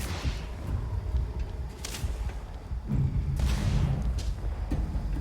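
Gunfire in the space game Starfield comes as a run of heavy booms and thuds with bursts of sharper shots, steady and mid-loud, without speech over it.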